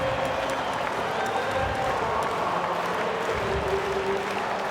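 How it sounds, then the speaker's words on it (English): A big home crowd at an NRL rugby league match between the Dragons and Sea Eagles roars and applauds in a steady, dense wash of cheering that holds at full volume throughout. "Big home crowd"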